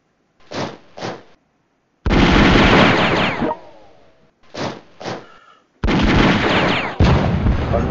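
An artillery attack in the European War 6 game: two pairs of short thumps, each pair followed by a long, loud booming barrage, repeated twice with a trailing rumble.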